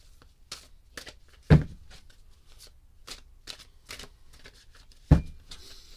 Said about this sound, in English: Let me do that little cleansing shuffle for you today.